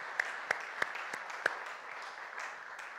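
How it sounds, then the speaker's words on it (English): A church congregation at a Sunday service gives David and Linda a faint, sparse round of clapping: a handful of distinct claps early on that quickly thin into quiet room noise. "let's give them a clap"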